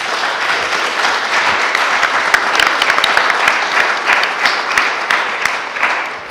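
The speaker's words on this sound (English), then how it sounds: "Folks, let's give our panel a round of applause." Audience applause for a panel at a visiting scholar event on California, steady dense clapping from a full room sustained for several seconds, then tapering slightly at the end.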